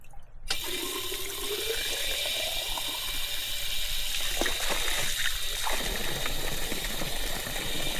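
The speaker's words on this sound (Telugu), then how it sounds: "వాటర్ అయితే పట్టుకున్నా" Water runs steadily from a tap into a bottle outdoors during a cycling stop, a continuous close rushing stream whose pitch rises gradually as the bottle fills.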